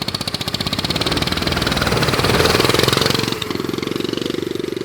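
Turbocharged coffin-shaped go-kart engine running close by, a loud, rapid pulsing drone that swells in the middle and then drops to a steadier, lower chug near the end.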